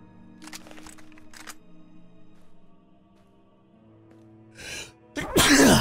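A single sharp sneeze bursts out loudly near the end, after quiet background hum and a few soft clicks.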